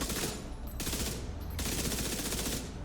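Backfire exotic submachine gun from The Division 2 firing in fast automatic bursts, three sustained rattling strings separated by brief gaps, fairly quiet overall.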